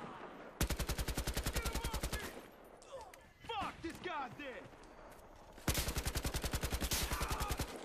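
Rapid automatic gunfire from a Battlefield Hardline team deathmatch match: two long, loud, evenly paced bursts with quieter scattered battle noise between them.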